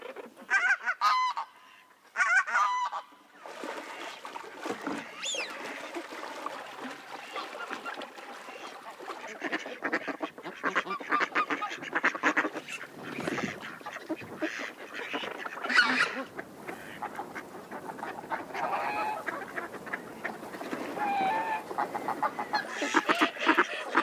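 A noisy flock of ducks and geese quacking and honking continuously, loud and close, with overlapping calls throughout.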